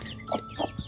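A mother hen clucks in a coop, three short low clucks spaced evenly apart, close by and fairly quiet over faint background hiss.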